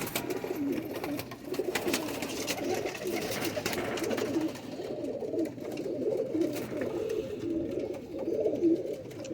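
Pigeons, male and female birds kept for pairing, cooing in steady overlapping low murmurs close by, continuous throughout with faint chatter in the background.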